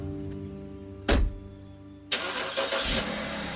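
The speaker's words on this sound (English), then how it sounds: "We hopped into the car and took off." A car sits idling with a steady low hum, then two sharp bursts ring out, likely door or starting thumps, followed by the engine revving up as it pulls away, close and moderately loud.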